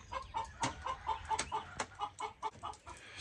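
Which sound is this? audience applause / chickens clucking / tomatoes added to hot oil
chickens clucking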